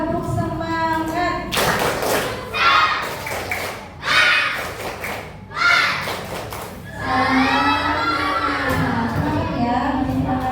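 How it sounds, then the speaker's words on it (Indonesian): A classroom of students does a rhythmic spirit clap, with bursts of loud clapping in patterned beats alternating with children's shouting and chanting voices, close and lively. "Semangat untuk kita semua, tepuk tangan."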